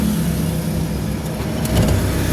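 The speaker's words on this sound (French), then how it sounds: "Là, allume la voiture." A car engine runs loud and close during a driving lesson in Guinea, a steady rough mid-pitched drone with a slight rise near the end and no talking.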